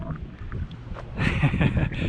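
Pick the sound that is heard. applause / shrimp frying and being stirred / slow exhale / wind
wind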